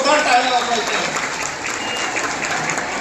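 Loud, dense clapping from a crowd of women at a village council gathering in Rahnal, Bhiwandi, a continuous burst of applause for the full stretch.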